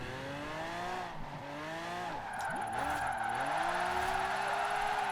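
A monster truck drifts in Forza Horizon 4: an engine drone that rises and dips with the throttle under a steady, sustained tire squeal, loud and close throughout.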